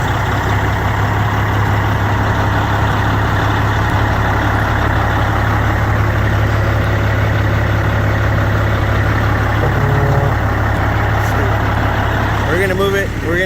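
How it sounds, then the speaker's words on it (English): A truck engine idles steadily after a cold start, a loud, close, continuous rumble with no change in pitch, while people talk over it. "Give you a quick cold start."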